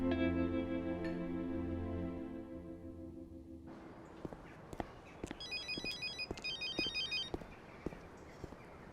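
A phone rings with an incoming call, its tone holding for several seconds before giving way to footsteps and a quieter, chiming electronic pattern in the background.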